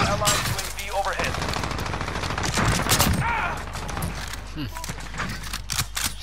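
Suppressed gunfire from a weapon in Call of Duty Modern Warfare crackles in rapid bursts among other battle noise, with a voice talking over parts of it.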